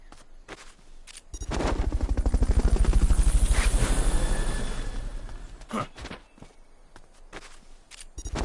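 Rapid rhythmic thudding of a Fulton Recovery helicopter's rotors in Metal Gear Solid: Peace Walker swells up loud, holds for a few seconds, then fades, with sharp clicks and game effects around it.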